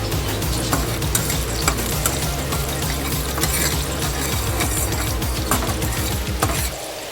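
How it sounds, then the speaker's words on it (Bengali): Whole cloves, cinnamon and small cardamom fry in hot oil for a bitter gourd rezala, giving a loud, dense crackling sizzle with steady bubbling and scraping stir sounds that ease off just before the end. "একটু লবঙ্গ, দারচিনি দিয়ে দিলাম"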